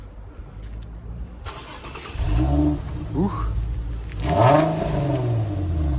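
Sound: car engine starting and revving

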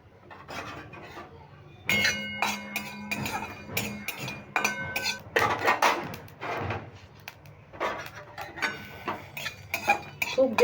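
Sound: dry roasting fennel and cardamom stirred in a wok

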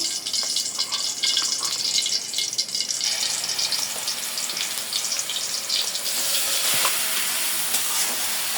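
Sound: onion paste frying in hot oil

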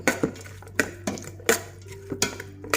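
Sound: stirring pork skin salad in a spinning pot

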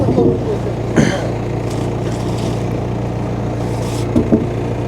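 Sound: front loader engine running while lifting

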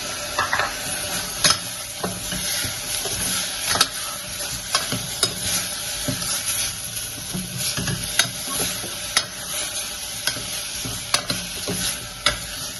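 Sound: chopped tomatoes being sautéed in a pan

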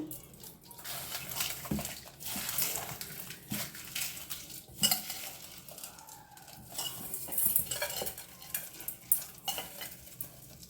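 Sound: mixing crushed dried red chillies by hand

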